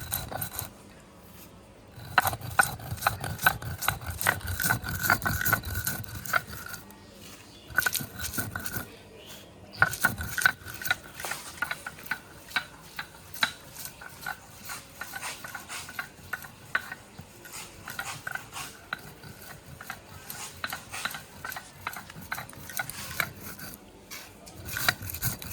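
Warm roasted spices ground by hand into a fine paste for a raw mango pickle, giving close, steady rhythmic scraping and rubbing strokes that continue throughout with small pauses, no voices present.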